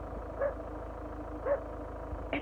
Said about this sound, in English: Here we go, here come all the dogs.